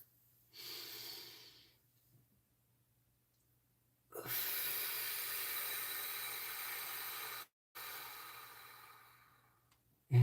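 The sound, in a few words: deep breaths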